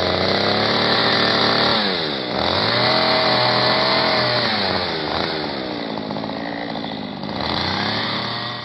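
A chainsaw runs hard and continuously while cutting through a tree trunk. The motor surges and bogs as it bites into the wood, loud and close, with no talk.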